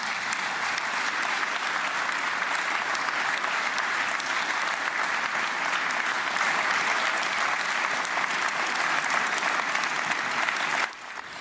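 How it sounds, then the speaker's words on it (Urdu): Sustained, loud applause from a large audience during a speech by Trump, a dense, even wash of clapping that runs unbroken for about eleven seconds before cutting off abruptly. "ٹرمپ کی تقریر کے دوران سب سے طویل تالیاں اس وقت بجیں جب انہوں نے کہا کہ اسرائیلی یرغمالی واپس آ چکے ہیں"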